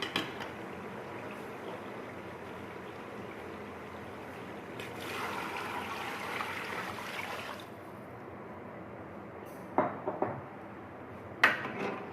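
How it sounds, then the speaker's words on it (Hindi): Water is poured from large steel glasses into a pot of beef nalli nihari, a steady splashing gush for several seconds, followed by a few clinks of metal against the pot. "तो अब मैं इसमें पानी डालूँगी और इसको पकने के लिए रखेंगे।"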